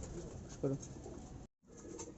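A single short, soft coo from a domestic pigeon of a good bloodline in a loft, heard faintly over low background noise.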